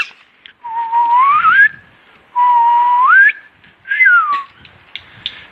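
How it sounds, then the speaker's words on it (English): Three loud, sustained human whistles with rising pitch, each held about a second, separated by short pauses, close to the listener: a fetch whistle used to send a dog after a thrown object. "basically this is my kind of like fetch whistle"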